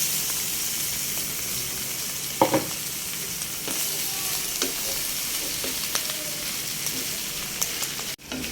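Pork innards sauté in a pan for dinugoan, a steady loud sizzle with scattered scraping stirs and clinks of a utensil throughout.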